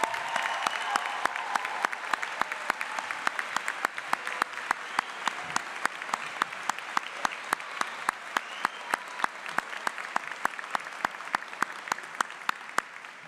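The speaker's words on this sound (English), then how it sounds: "give a huge round of applause in recognition for all they have done to get us here" Sustained applause from a graduation ceremony audience at a 2023 charter school commencement, steady dense clapping from a large crowd that carries on evenly for the whole stretch, with some sharper individual claps standing out.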